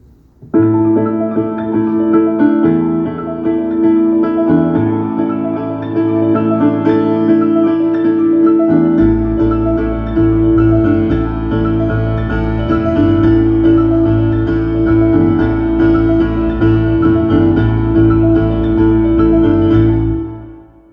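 Several piano parts stacked together form a dense, sustained wash of chords, with a deep low register joining partway through and holding to the end.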